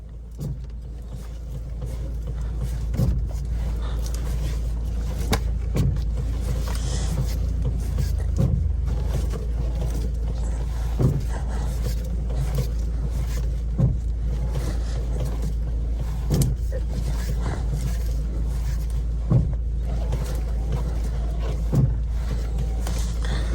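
A Mazda RX-8 rotary engine idles steadily and close while the steering wheel is turned from lock to lock. Soft repeated clicks and thumps from the steering sound over the even low hum.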